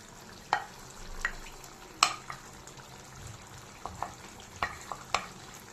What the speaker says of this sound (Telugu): ఇప్పుడు మనం పేస్ట్ చేసి పెట్టుకున్న గోంగూరని వేసుకుందాం